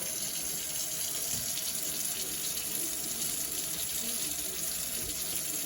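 Water runs steadily into a sink in a continuous, even splashing rush, rinsing burned-on red wine off a Dekton surface, with no voices over it.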